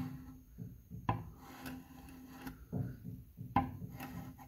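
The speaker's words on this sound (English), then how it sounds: "I'm scraping with the grain." Wood being scraped with the grain on a mid-century Lane Acclaim snack table, a close, quiet rasping in repeated strokes with a couple of sharper knocks.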